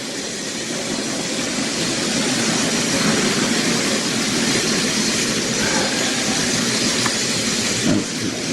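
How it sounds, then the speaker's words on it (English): Hornby OO gauge Black 5 model trains run on track with a steady, continuous rumbling whir that stays even and close throughout, with no talk. "We're trying to slow down and stop the outer train."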